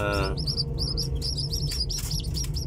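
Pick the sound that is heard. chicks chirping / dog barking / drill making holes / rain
chicks chirping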